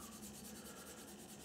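Sanding stick rubbing over the seam of a plastic model aircraft fuselage, a close, quiet, rhythmic back-and-forth scraping with no voices.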